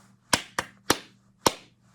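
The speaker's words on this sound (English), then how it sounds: "clap it together" In a music lesson, hands clap a rhythm together as four sharp, close claps, the first three evenly spaced and the last after a longer gap, over a low background hum.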